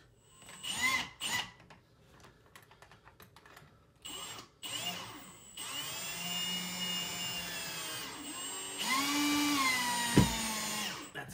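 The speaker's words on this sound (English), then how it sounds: "Get a screw, get my drill." A power drill drives a screw into a wooden folding night table shelf, whirring steadily for several seconds and rising in pitch as it bites, after a few sharp knocks and clatters, close by.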